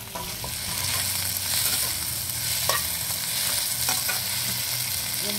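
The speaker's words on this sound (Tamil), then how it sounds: "தக்காளி நல்லா வதங்கட்டும்" Tomato and green chili sautéing in groundnut oil for a fish thokku, a steady close sizzle with soft stirring scrapes throughout and no talk.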